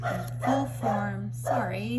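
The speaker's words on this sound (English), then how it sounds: "that's my dog" A pet dog named Simon barks a few times in the background while someone talks, with a steady low hum underneath.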